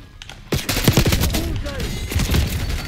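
Rapid bursts of automatic gunfire and shots in Black Ops 6 on the Nuketown map, loud and dense with echoing cracks, a voice talking over the firefight.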